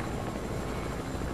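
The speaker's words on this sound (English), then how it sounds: "It's a helicopter, it's not a plane." A video game helicopter flies nearby, its rotor a loud, constant whirring drone with a dense low chop, sustained without break and no voices over it.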